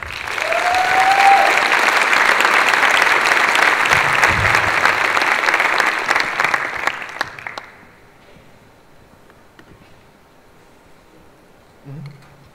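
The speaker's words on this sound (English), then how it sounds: "Give a big round of applause for Josiah." An audience at an Ignite sessions event applauds as a student speaker is introduced, loud sustained clapping for about six seconds that thins out into scattered claps and fades to near silence.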